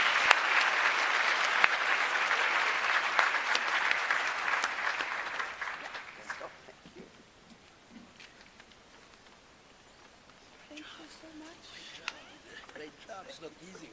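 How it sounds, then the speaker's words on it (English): Audience at a science forum closing plenary breaks into a loud, sustained round of applause for the panelists, dense clapping that fades out after about six seconds, leaving a quiet hall with faint murmurs. "I want us to give them a round of applause"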